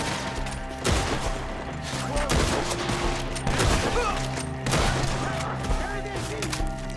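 Bursts of rapid gunfire in a shootout in the video game Red Dead Redemption 2, with shots cracking repeatedly and in rhythm. Game voices shout over the constant shooting.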